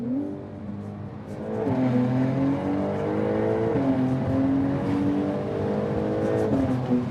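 A tuned Porsche 992 Turbo S accelerates hard from inside, engine pitch climbing steadily through several gear shifts with brief dips between, loud and close.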